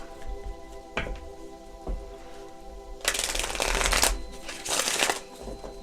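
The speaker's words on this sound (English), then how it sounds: "Let's see, a riffle shuffle." Oracle cards printed on quality US Games card stock riffle shuffled, two long bursts of dense, fizzy flutter with brief taps before them, close and clear with no talk.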